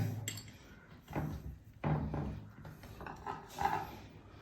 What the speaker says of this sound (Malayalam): ഇനി നമുക്ക് നെല്ലിക്ക ഇടാം